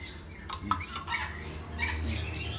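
A young black-capped lory parrot gives several short, harsh squawks, close but fairly quiet over a low background hum.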